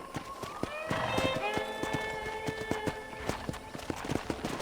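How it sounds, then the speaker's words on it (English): Horse hooves clip-clopping at a steady gait during a ranch ride in Red Dead Redemption, a regular rhythmic series of sharp hoof strikes over soft melodic music tones, fairly close and clear. "let's see if you can still ride a horse"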